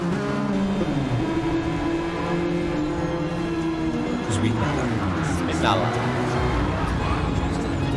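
Race car engine in a racing game at Bathurst drones steadily with shifting revs, a car being brought back onto the track after running wide, heard under continuous commentary talk.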